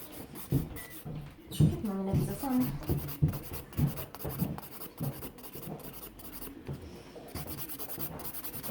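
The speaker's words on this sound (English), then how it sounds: "So I'm buffing the nails." Soft repeated rubbing and scraping strokes of a nail buffer on gel-polished fingernails, close and quiet, with faint intermittent talking in the background.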